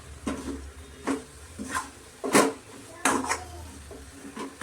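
A spoon stirs milk and cream in a pan for green coconut laddoos, giving intermittent scrapes and light metallic clinks at an uneven pace, close by and fairly quiet.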